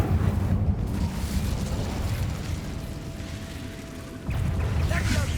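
Incendio fire spell cast in Hogwarts Legacy, heard as a sustained whooshing, rumbling burst of game effects with a rising blast near the end, loud and dense throughout.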